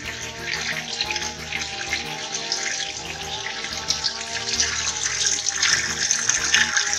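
Tap water runs steadily into a sink while an animal skull is rinsed clean, a continuous splashing hiss with small clatters and shifts as the skull is moved under the stream.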